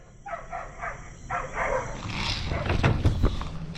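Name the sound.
neighbor's dog barking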